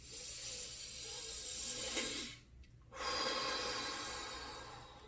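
A long, smooth diaphragmatic exhale during a beginner mind-body breathing exercise, a steady breathy rush with a brief pause before the airflow resumes, close and soft.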